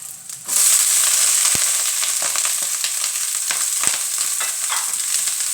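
Chinese kale stir-fried with crispy pork in a hot wok, a loud steady sizzle that flares up as the greens go in, with scattered clanks and scrapes of a spatula stirring throughout.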